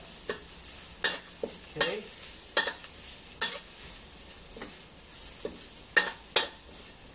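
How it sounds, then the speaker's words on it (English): Quiet steady frying of pandan leaves and lemongrass with repeated scraping stirs, sharp bursts recurring every half second or so, and a brief word spoken once. "my screw pines, pandan leaves, my lemongrass, everything is frying well"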